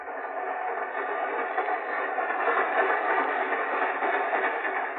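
A steady, continuous rumble of a train ride as a sound effect in a radio drama, a dense, even rolling noise held at moderate loudness throughout with no voices over it.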